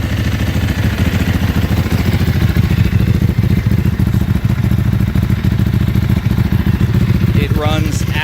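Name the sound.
2005 Ducati 999 Superbike motorcycle engine running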